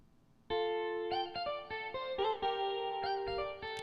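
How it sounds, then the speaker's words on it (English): Song mix in Logic Pro X with no effect treatments: a dry, sustained harmonic instrumental line with steady held notes and clear note changes, moderately loud with no voice. "No treatments, it sounds like this."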